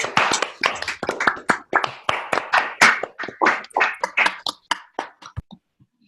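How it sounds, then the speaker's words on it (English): Online participants clap through unmuted microphones at a workshop, a burst of sharp, close, uneven hand claps from a few people overlapping for several seconds before thinning out to scattered final claps. "Big round of applause"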